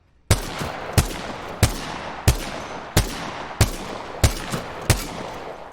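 Eight loud, sharp gunshots from a Scout rifle fired from the hip in Apex Legends come at an even pace about two-thirds of a second apart, each with a brief ringing tail, and no talking.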